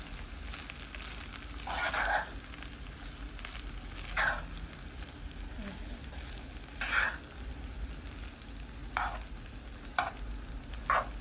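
Greens being stirred into a filling in a home kitchen pan, with a few separate soft scraping strokes spaced a couple of seconds apart over a quiet background.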